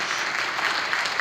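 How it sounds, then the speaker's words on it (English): A crowd gives a dancer a short burst of applause, a dense, even patter of clapping that lasts only a moment. "So that's also a round of applause for Evie"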